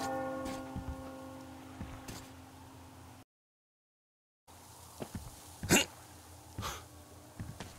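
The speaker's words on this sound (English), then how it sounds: "Do you hear that bell?" In the video game Metro Exodus, a church bell rings with a sustained, slowly fading tone, followed by a brief silence and then scattered thumps and rustles.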